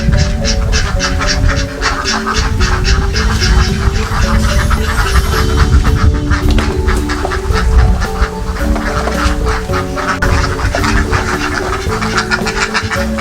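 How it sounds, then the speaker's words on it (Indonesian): A large flock of about six hundred ducks on a family duck farm pen in rice fields near Semarang, quacking loudly and continuously in a dense, overlapping chorus close by, with no talk. "area ternak bebek keluarga ya, di sawah"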